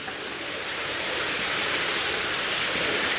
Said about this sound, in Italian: E questo rumore di acqua non è altro che il muro che ha ceduto e l'acqua passa attraverso le fondamenta.